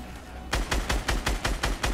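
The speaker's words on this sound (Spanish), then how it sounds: "Ya rápidamente le disparo" Gunfire in the Fortnite video game: a rapid burst of about eight evenly spaced, loud shots after a brief quiet start, with no talking.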